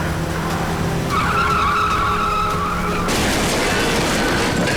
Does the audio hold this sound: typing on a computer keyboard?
no